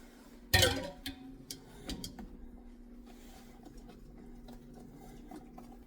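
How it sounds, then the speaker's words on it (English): Melted butter, flour and baking powder are mixed into marble cake batter in a bowl, heard as a sharp opening clatter and then intermittent light clicks and taps of a utensil against the bowl over a quiet background. "Then we mix in our melted butter, flour,"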